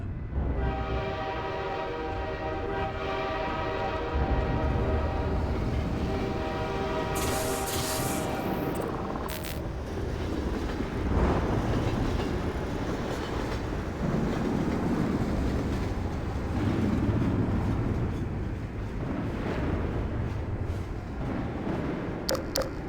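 A video game train rumbles steadily nearby at a station, with a long sustained horn blast early on, then clanks and hissing of the cars continuing throughout.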